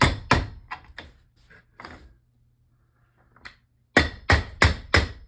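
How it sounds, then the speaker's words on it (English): Hammer blows strike a part of a four-wheel moving dolly under repair: a quick run of sharp, close metallic hits, a few scattered softer taps, a pause, then four more hard evenly spaced strikes. "I think I'll hit it some more"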